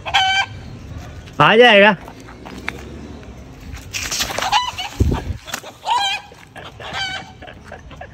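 A pet rooster clucks and squawks in loud, harmonic bursts while being chased, with rapid cries in quick succession and people talking and shouting nearby throughout.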